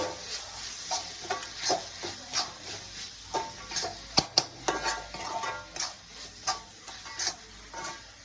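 Spices and store-bought garam masala sautéing in a pan for crab gravy, a spatula scraping in a regular rhythm over a soft sizzle, with a couple of sharper metallic clicks partway through.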